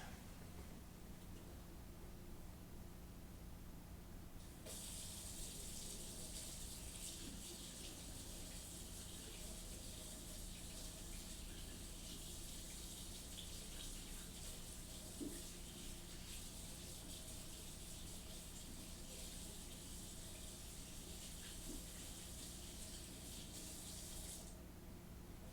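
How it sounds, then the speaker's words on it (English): Tap water runs steadily into a workshop sink as paint is rinsed off a brush, a continuous splashing gush lasting about twenty seconds between quieter stretches, with no talking. "I definitely need to rinse this off a bit more."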